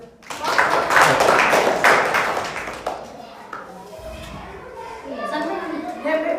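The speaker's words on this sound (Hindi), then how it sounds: "ताली बजाओ" Children clap their hands together in a classroom during a Hindi grammar lesson: a dense burst of many hands for about two seconds, then it fades into quieter room noise and a voice.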